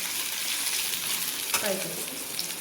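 Boiled chicken liver fries in a pan with a steady, bright sizzle and a brief stirring clatter partway through.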